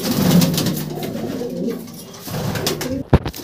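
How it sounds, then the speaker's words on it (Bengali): Male Andhra pigeons coo in a close, steady run of soft throaty calls at a pigeon show, with a brief sharp knock near the end. "তো এটা ছিল তাদের মেল সেট আপ, সব মেল পায়রা"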